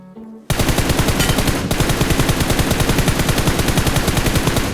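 Rapid automatic gunfire in PUBG Mobile, a loud sustained burst of closely spaced shots with a brief hitch midway, starting abruptly after a short quiet lead-in.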